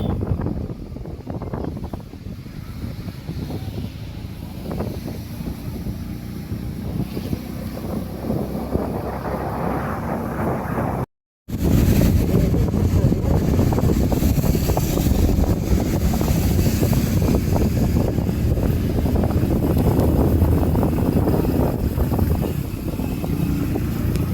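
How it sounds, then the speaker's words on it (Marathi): Matheran waterfall roaring as a steady, broadband wash of rushing water, with wind buffeting the microphone throughout and a brief dropout near the middle; no voices. "माथेरानचा धबधबा"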